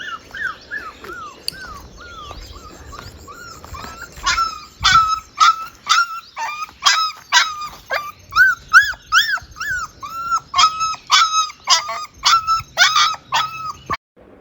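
A small puppy that has fallen into a drain whimpers and yips in repeated high-pitched bursts, rhythmic and close, getting more insistent through the middle with brief pauses between cries.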